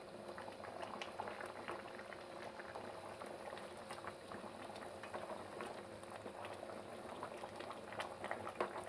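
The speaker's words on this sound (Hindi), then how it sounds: "अब हम इसे 1 से 2 मिनट तक अच्छे तरीके से इसी तरह तेज़ आंच पे भूनते हैं।" Chicken korma frying on a high flame, a constant close sizzle and bubbling with crackling pops throughout, with no voices over it.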